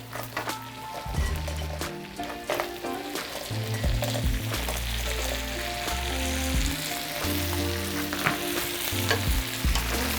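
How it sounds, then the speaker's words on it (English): Dungeness crab pieces sizzle loudly in a pan of hot oil and butter, seasoned with cracked black pepper, with steady frying hiss and intermittent stirring clatter throughout, no talking. "I'm gonna go ahead and add my crab to the pot,"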